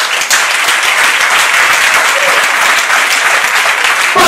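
A church congregation applauding to acclaim the Lord, dense sustained clapping from many hands filling the room, loud and continuous throughout.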